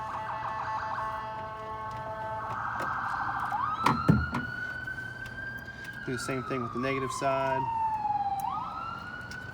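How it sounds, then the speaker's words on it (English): Wailing emergency vehicle sirens in Martinez, Georgia, rising and falling in long sweeping tones with a yelping burst, steady behind someone talking nearby. "Pardon the sirens in the background."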